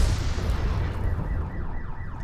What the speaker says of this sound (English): there's a massive explosion outside